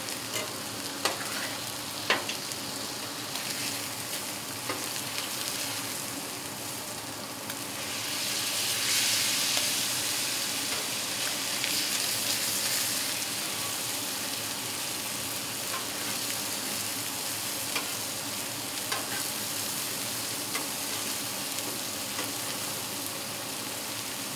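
Steady, close sizzling and searing of food on an outdoor hibachi-style teppanyaki griddle, a dense broad hiss with occasional spatula taps, swelling briefly louder partway through.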